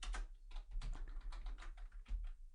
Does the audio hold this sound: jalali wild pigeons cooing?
no